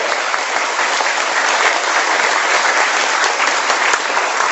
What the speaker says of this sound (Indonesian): Sekali lagi tepuk tangan dong.